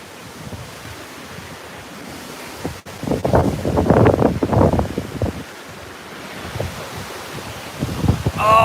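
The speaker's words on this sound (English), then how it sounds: "the wind is so strong" Strong wind from Hurricane Isaias roars through trees in New Jersey, surging in heavy rushing gusts that swell and ebb, with buffeting against the microphone and no voices.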